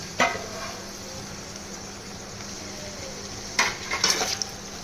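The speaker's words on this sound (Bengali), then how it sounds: "এবার আমি পেঁয়াজ কুচিগুলো আর ক্যাপসিকামটা দিয়ে দেবো, আর এর সাথে কাঁচা লঙ্কাটাও দিয়ে দেবো।" Chopped onion, capsicum and green chili stir-fry in a pan for chili chicken: a constant sizzle, broken by a spatula clatter near the start and a burst of scraping and stirring toward the end.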